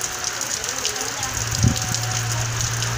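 Rain falls steadily on a Brazilian Northeast backcountry landscape, a continuous hiss with a brief low thump partway through, while someone speaks over it.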